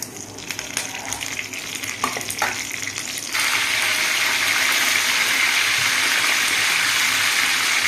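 Urad dal, chana dal, curry leaves, cumin and garlic hit hot oil for a tempering, crackling and popping softly before surging into a loud, steady sizzle after about three seconds that holds to the end, with no voices.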